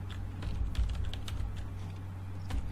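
Quiet, close keystrokes on a computer keyboard as C code is typed, a quick uneven patter of taps over faint room hum, with no talking.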